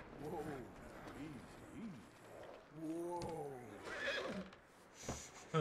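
Horse neighing in Red Dead Redemption 2, a few harmonic whinnies rising and falling over a steady background of game ambience, followed by faint mechanical clicks and a brief hoof sound near the end.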